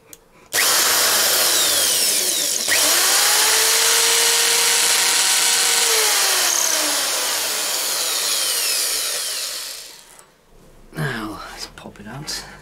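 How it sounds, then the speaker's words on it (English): A power drill bores through the string holes of a Fender Telecaster body from the back, a loud steady whine for about ten seconds that winds down, followed by brief rattling handling noise. "drill through it, through each of these string holes from the other side"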